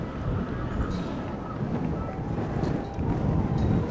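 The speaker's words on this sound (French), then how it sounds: "le vent souffle de plus en plus et elle va avoir vraiment une grosse influence sur ces courses, Michel" Strong wind buffets the microphone outdoors at a cross-country race, a steady roaring rush of noise throughout with slight gusting swells.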